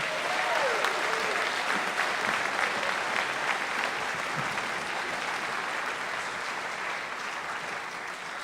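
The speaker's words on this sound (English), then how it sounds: "Please join me in one final round of applause for all of our honorees this evening." Sustained audience applause for award honorees at a 2018 awards night, a dense steady wash of many hands clapping throughout, with a brief faint voice near the start.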